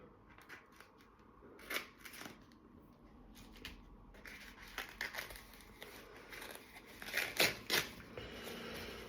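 Scissors snip repeatedly in uneven bursts, with crisp cutting and rustling of material close by, the snips growing louder near the end.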